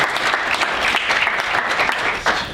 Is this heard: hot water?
no